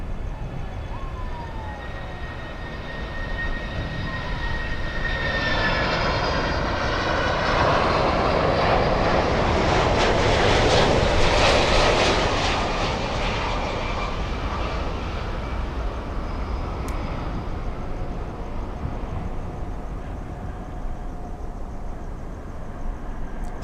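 An airliner takes off at Miami International Airport, its engine roar swelling to a loud peak midway and then fading, with high turbine whines running through it. No one speaks.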